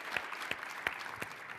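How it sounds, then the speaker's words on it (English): Conference audience applauding a panelist: an even wash of clapping from a room full of people, steady and moderately loud throughout, with no talking. "How about a round of applause for Brian Mckeiver from BizStream?"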